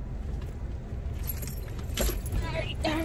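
Keys jangle in short metallic jingles near the end, over a low background rumble with what sounds like nearby talk.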